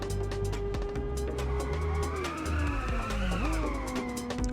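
A car drifts in the racing video game Inertial Drift, its engine revving loudly with shifting pitch while tires squeal through the slide, steady and close.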